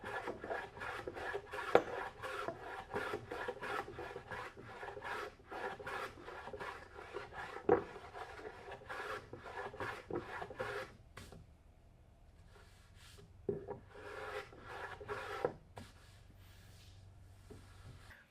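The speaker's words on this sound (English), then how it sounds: "I like to get most of the glue off before I run a nice Lee Nielsen hand plane over it" A Lie-Nielsen hand plane shaves glued-up wood in a workshop, with repeated rasping strokes in a steady rhythm and a brief pause before a few more passes, close and fairly quiet.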